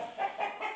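A Pakistani-cross Aseel rooster clucks three times in a quick, evenly spaced run, close by but fairly soft, with no talking over it.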